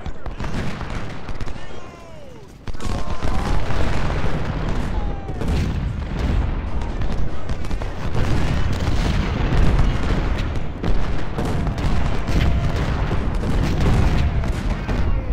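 Cannons and other gunfire boom in a Civil War battle in the video game Ultimate General: Civil War, dense overlapping blasts and rumble rolling continuously after a quieter opening two seconds.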